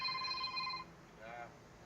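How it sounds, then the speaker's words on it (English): A mobile phone rings with a bright electronic ringtone that sounds steadily and then cuts off, with a quiet voice underneath. "My phone's ringing."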